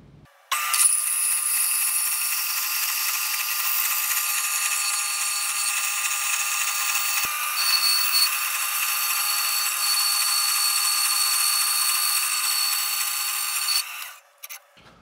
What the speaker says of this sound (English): I'm going to cut some straps out of this and rip them apart for you